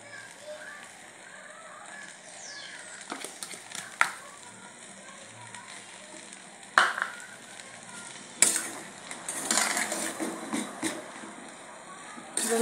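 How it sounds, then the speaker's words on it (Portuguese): Mozzarella cheese being stirred into a one-pot lunch on the stove: soft sizzling from the pan, scraping spoon strokes and a few sharp clanks against the pot, while a person talks throughout. "Vamos estar misturando esse queijo, dá uma derretida."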